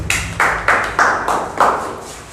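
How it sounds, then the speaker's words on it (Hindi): A class claps for a student in a maths lesson: about six loud, evenly spaced bursts of group clapping, each sharp onset fading quickly before the next. "चलो इस बच्चे के लिए एक क्लैपिंग होनी चाहिए"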